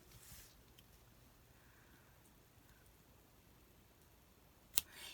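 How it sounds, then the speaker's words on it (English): A single crisp snip near the end as scissors cut off the tails of a handmade paper tag, close and sharp against a quiet room. "I'm just going to snip this off. Just shorten these tails."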